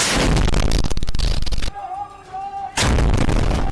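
A rocket fired by soldiers from an upper floor at a building opposite, hitting it with a loud blast; heavy booming, roaring bursts fill most of the clip, broken by a short quieter stretch with a tonal hum before the roar returns.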